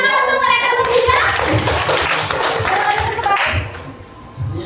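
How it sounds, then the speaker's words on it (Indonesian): A class of students claps for three classmates during a practice teaching lesson, a brisk scattered round of hand claps mixed with children's voices and chatter in a busy room. "Oke, tepuk tangan untuk mereka bertiga."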